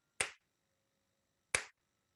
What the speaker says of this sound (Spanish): las dos veces que yo aplaudí, sucedieron en el mismo lugar